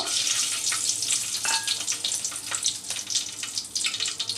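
Whole spices for white polao fry in hot oil: bay leaves, cinnamon sticks, cardamom and cloves. A close, lively sizzle with bubbling, spitting crackles runs throughout.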